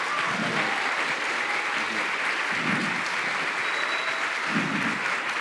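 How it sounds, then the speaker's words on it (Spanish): A festival audience gives sustained, dense applause at a talk, holding steady and fairly loud throughout. "Por favor, un aplauso."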